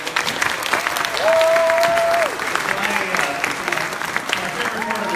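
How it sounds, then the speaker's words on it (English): An audience at a Fremont town hall for Rep. Ro Khanna gives a round of sustained applause, mixed with whoops and cheering voices from the crowd. "get one more round of applause"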